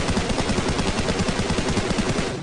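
Gunfire in the mobile battle-royale game PUBG Mobile: a loud, dense volley of rapid shots packed tightly for a couple of seconds, with no voices over it.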